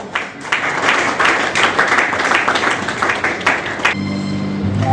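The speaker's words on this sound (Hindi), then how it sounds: "तालियां जरूर बजाएं हमारी" An audience applauds at an honouring ceremony for an education official, a dense burst of clapping from a crowd that fades after about four seconds into a quiet room tone.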